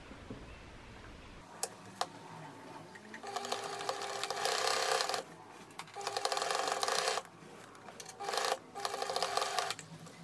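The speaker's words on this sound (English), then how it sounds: "And now I'm gonna sew here" A sewing machine stitching a handbag runs in close, steady bursts of rapid mechanical ticking, starting and stopping several times with short pauses between runs.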